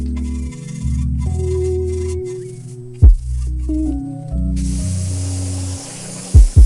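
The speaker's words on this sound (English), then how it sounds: "I'm gonna spray some APC or some degreaser back on the inner wheel barrel" APC degreaser is sprayed onto a car's inner wheel barrel in short, sharp hissing bursts, two clear spritzes and a softer hiss between, over background music.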